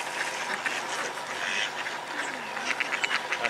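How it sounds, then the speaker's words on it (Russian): A crowd of ducks quack repeatedly on an urban avenue, a busy overlapping chorus of sharp calls at moderate distance over a steady background hum. "Они так крякали"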